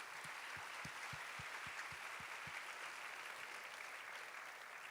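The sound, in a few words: applause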